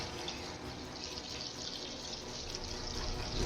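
Water runs steadily from a kitchen tap into a sink while someone cooks, a continuous close hiss with no talk over it.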